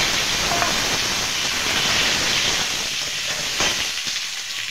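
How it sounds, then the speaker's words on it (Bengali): Potatoes frying in oil in a home vegetarian paneer dish, a loud continuous sizzle with faint stirring scrapes, easing slightly toward the end. "আমি আলুগুলো ভেজে নেব।"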